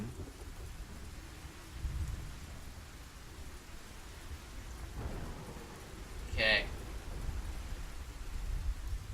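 Rain falls steadily in the Spellforce 3 video game, with a low thunder rumble, a brief sharper crack past the midpoint and voices talking over it.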